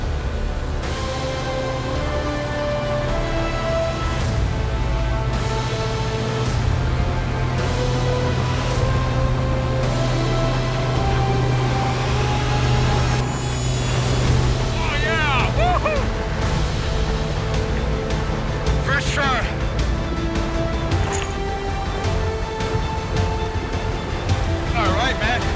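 A fishing boat races at full speed while chasing a fish off Polynesia. Its engine roars steadily and close over rushing water and wave slaps, with someone talking over the noise throughout.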